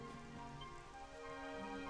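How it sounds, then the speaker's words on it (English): Steady rain falls in a video game, a dense, even hiss of drops on surfaces with no pause and no voices, filling the whole short stretch. "It would have to go and start raining, wouldn't it?"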